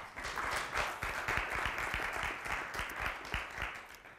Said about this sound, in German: Bitte einen Applaus für Herrn Werner.